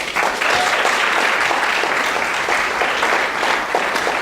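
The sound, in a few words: audience applause welcoming a speaker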